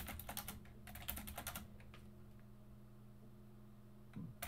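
Faint computer keyboard typing clicks in quick clusters over a low steady hum, the keystrokes thinning out after the first two seconds.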